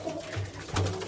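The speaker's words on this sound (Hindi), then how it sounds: "ये बहुत शानदार कबूतरी है जिसकी भी है भाई।" A female pigeon, caught as part of a wild and white pigeon pair, gives a short, low throaty coo of two soft pulses, close up and alone.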